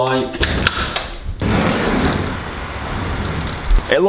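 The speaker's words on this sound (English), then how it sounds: "It's raining again." Steady rain falls outdoors in a dense, hissing wash that fills the clip at moderate level, with a couple of thuds and brief voices at the start and end.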